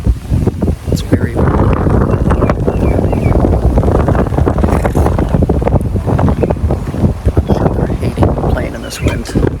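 Strong gusting wind buffets the microphone at a golf course during a two-day district tournament, a loud continuous roar with rumbling bursts that runs the whole time, with a voice talking over it.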